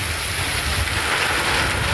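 Steady rain falls on a cold evening, a dense continuous hiss with a faint low rumble beneath and no voices.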